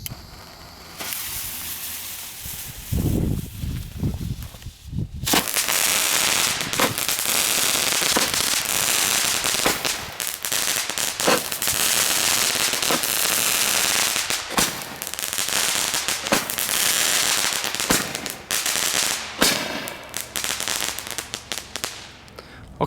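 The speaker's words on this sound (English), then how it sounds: "I would have to say that the crackle was awesome. It was really loud." A Mega Banger Crackle Candle firework fires a long, loud, dense barrage of crackling shots and sharp pops for about eighteen seconds after a short quieter lead-in.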